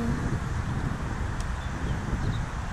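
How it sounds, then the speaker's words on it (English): Steady wind at about 14 miles per hour blows across a lake on a bass fishing outing, making a continuous low, rumbling gust noise against the microphone with no pauses or talk. "Wind's about 14 miles per hour."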